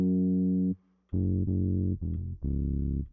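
Deep synthesized bass notes from a bass guitar turned synth in Ableton, with a wavering vibrato, played in a short phrase of about five held tones with a brief gap after the first.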